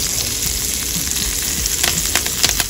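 Butter and olive oil sizzle with herbs in a hot pan, a steady close crackling fry with small spitting pops throughout and no voices.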